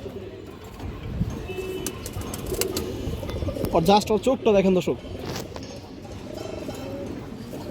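A tournament-bred racing pigeon with a leg chip coos in a short burst of throaty calls up close, while someone talks over it throughout.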